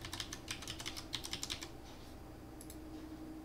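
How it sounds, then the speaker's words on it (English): An invitation code being typed on a computer keyboard, with quick, light key clicks in a fast run, then a pause and a couple of final taps, close and fairly soft. "type in our invitation code."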